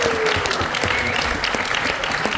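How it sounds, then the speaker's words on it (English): An audience at the Athens Bar Show bursts into dense, loud applause for a volunteer, a brief wash of clapping that holds steady throughout. "Please give him a round of applause as he comes."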